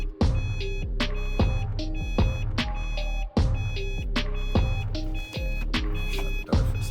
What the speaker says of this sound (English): Beeping noise is annoying.